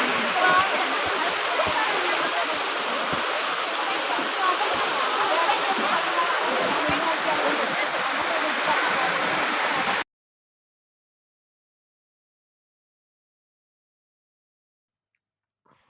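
A small waterfall pours steadily with a dense, even rush of water for about ten seconds, then cuts off abruptly into silence.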